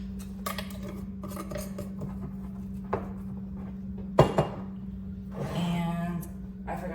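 Small clinks of a teaspoon against kitchen dishes sound in scattered bursts, with a louder pair of knocks near the middle and a brief scrape toward the end, all over a steady low appliance hum.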